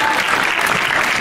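An awards-event audience applauds the set designer of a production studio, a thick, loud, continuous wash of clapping held evenly through the brief moment.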